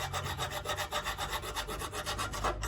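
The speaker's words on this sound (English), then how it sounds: "So I'm just filing one end so that it's roughly like the mushroom shape of the one that's remaining." A hand file rasps rhythmically across the end of a steel bicycle cable, quick back-and-forth strokes close up and fairly quiet, with no talking.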